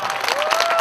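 Applause from an audience at the Sikh Games sports event in Melbourne, Australia, 2019: dense, steady crowd clapping filling the whole short moment, with a thin sustained tone running underneath.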